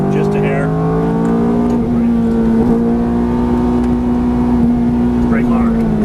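A Ferrari F430 V8 engine pulls loud and close as it accelerates out of a corner on a track, its pitch climbing steadily, with a driver's voice talking over the engine.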